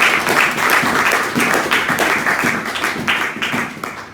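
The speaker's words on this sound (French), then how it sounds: "On l'acclame encore" A church congregation claps during a Sunday worship service, dense sustained applause with rhythmic pulses throughout, loud and close.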